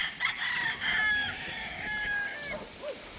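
A rooster crows nearby in a farmyard, one long strained cock-a-doodle-doo with a wavering pitch over soft background noise, no talk.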